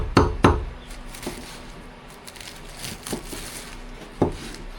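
A dull knife knocks against a cutting board in a few sparse, uneven chops through vegetables, two quick ones first, then scattered single strikes.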